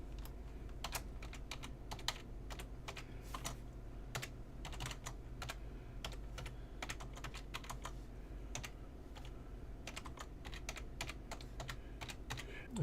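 Rapid, uneven keystrokes on a computer keyboard while code notes are written for an Arduino LED blink sketch, heard close and fairly quiet against a steady low hum, with no talking.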